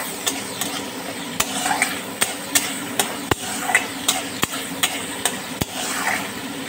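Egg curry being stirred in a pan on a gas flame turned up high, with a spoon scraping and knocking against the pan about a dozen times in an uneven rhythm over a soft sizzle.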